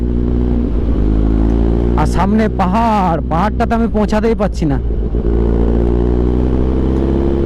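Motorcycle ridden toward hills in rain mode, giving a steady low engine drone throughout with someone talking over it in the middle.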